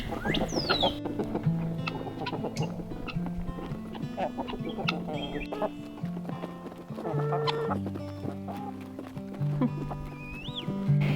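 Chickens cluck and chatter over one another in a busy farmyard, with scattered clucks and squawks of varying pitch and a steady background bustle.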